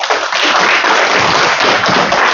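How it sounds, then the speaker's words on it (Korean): Dense, continuous audience applause at a tax-strategy lecture on business succession, many hands clapping loudly and evenly throughout without any voices. "큰 박수 부탁드리겠습니다"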